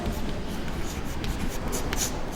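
Marker or chalk scratching steadily across a board during a Hindi maths and physics lesson, a continuous close scribbling texture with no pauses and no talk over it.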